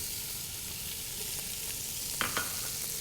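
Onions, garlic and shallots sizzling in rendered bacon fat for a smoky tomato and cannellini bean soup, a steady close frying hiss with a couple of brief utensil scrapes or stirs near the end.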